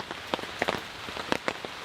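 Rain from a passing storm, heard at a campsite, patters steadily with scattered sharper drops striking a nearby surface. The sound is moderate rather than pounding.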